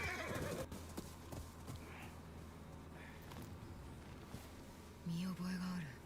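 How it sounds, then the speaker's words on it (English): Horse neighing and clip-clopping hooves in the video game Ghost of Yōtei, a loud whinny at the start and steady hoofbeats under game music and other effects, with speech in the scene. "All right, let's go find a horse."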